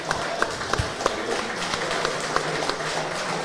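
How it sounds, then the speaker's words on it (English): A round of applause from a live audience at a pub pregame tipping show, a steady crackle of clapping with scattered sharper claps throughout. "another round of applause"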